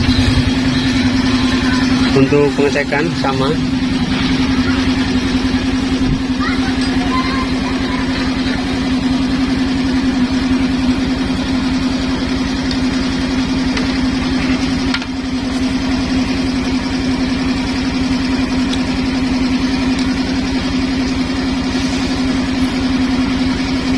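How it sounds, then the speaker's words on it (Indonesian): A Suzuki Skydrive scooter engine idles during an electrical charging check, giving off a steady, even hum throughout while someone speaks briefly over it. "Terus sekarang coba kita hidupkan motornya."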